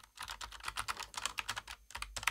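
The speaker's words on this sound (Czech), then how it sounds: "Na hladkým dřevěným stole mě sedí akorát zvuk klávesnice." Fast typing on a Logitech G915 X Lightspeed low-profile linear mechanical keyboard resting on a smooth wooden desk, crisp close key clacks in quick bursts with a brief pause, fairly quiet and with no talking.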